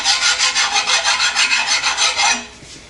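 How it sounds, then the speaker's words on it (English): A flat file rasps across a metal part during a 1953-1962 Corvette steering gearbox rebuild: about a dozen quick, even back-and-forth strokes, loud and close, then stopping abruptly. "keeping your fingers pushing down tightly here so that the file stays flat against it. Change directions."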